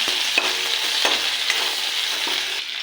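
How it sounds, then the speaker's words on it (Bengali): Spices, ginger and chili crackle and sizzle in hot oil, a continuous bright frying hiss with small pops and a light scrape. "এটাকে একটু ভেজে নেব।"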